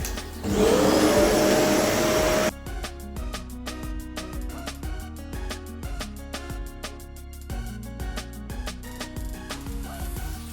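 A vacuum cleaner roars loudly for about two seconds, then cuts off abruptly as rhythmic music-like tapping takes over.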